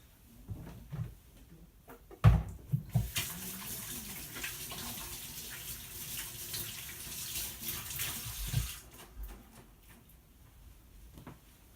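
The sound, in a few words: washing hands under running tap water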